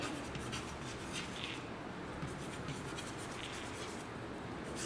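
Numbers being handwritten during a homework lesson, a close, continuous pen scratching and rubbing on paper with a few brighter stroke accents.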